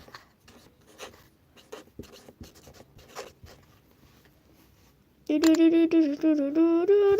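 Pen handwriting names on paper, with intermittent scratches and short strokes close to the microphone, followed by a loud burst of music.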